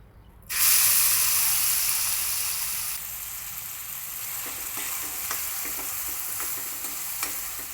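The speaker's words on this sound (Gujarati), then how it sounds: "કાંદા બે મિનિટ સતળાય એટલે ચોપ કરેલા ટામેટા નાખવાના" Chopped onions hit hot oil in a kadai with a pinch of asafoetida while pav bhaji is being made. They give off a loud, close sizzle that starts suddenly and then settles into a steady frying hiss. A few stirring scrapes sound over it, and no one speaks.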